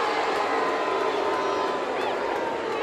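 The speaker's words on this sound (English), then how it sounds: "Loud jeers from the Brighton home crowd." Home crowd at a Brighton & Hove Albion v Arsenal women's football match, a loud, dense and steady roar of jeering from the stands that fills the whole stretch.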